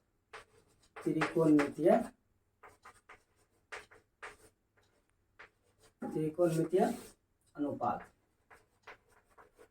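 Chalk or marker scratches on a board during a Hindi-language maths lesson on trigonometric ratios, short strokes heard in the gaps between the teacher's speech.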